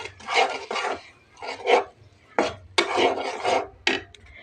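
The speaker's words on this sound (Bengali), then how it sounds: "এই যে চিংড়ি মাছটা দিয়ে দিলাম, দিয়ে আমি ভালো করে কষিয়ে নেব।" Shrimp are stir-fried with spices in a pan. Close scraping and rasping of a spatula against the pan comes in several short bursts, with quiet pauses between them.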